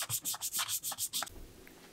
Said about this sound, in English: Make sure you sand away all the scratches from the previous grit